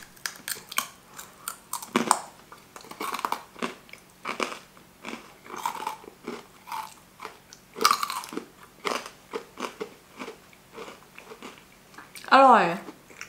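Someone bites into and chews a crispy green radish snack, a run of close crunches in uneven bursts, with people talking between bites.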